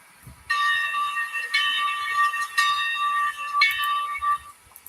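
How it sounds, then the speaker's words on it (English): A bell rings in repeated loud, bright strikes, each tone ringing out and overlapping the next, with short breaks and a fading tail at the end. "Wait, a bell?"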